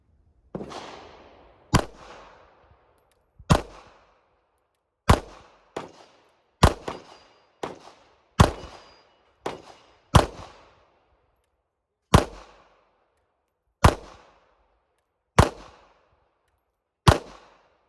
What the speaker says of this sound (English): the more I shoot and practice with this little gun